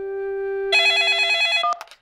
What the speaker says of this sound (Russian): Пеппа, тебе звонит Сьюзи.